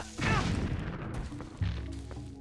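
A bomb blast in The Legend of Zelda: Twilight Princess during the Forest Temple, a loud booming burst near the start with a second heavy thump about a second later, both over a dense game soundscape.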